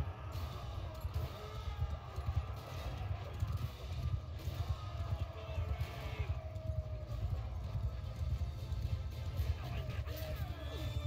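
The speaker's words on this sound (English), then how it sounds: "There's my horses." Horses gallop in the video game Mount & Blade II: Bannerlord, a steady, fast drumming of hooves throughout, with muffled voices and battle ambience underneath.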